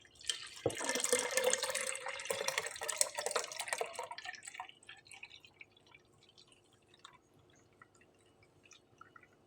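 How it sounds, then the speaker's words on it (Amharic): Date juice is poured from a wide bowl into a jug: a steady, close splashing pour for about four seconds, then scattered single drips that slow and fade. "ገለብጣለሁ ጆጌ ላይ"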